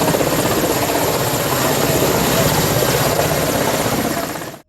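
A helicopter roars loud and close, its dense rotor chop and engine noise steady throughout before cutting off abruptly at the end.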